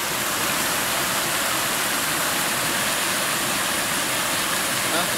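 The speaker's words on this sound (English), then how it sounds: "That's a nice stream." A flowing stream that feeds toward the Saluda River rushes in a steady, dense hiss of moving water, close and constant throughout, with no distinct voices over it.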